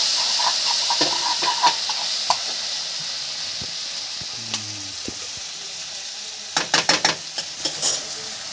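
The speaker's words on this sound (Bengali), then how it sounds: "এই যে আলুটা ভাজা হয়ে গেছে" Potatoes fry in a pan under a constant hiss of sizzling oil, with spatula scrapes and clatters that grow into a quick burst of stirring near the end.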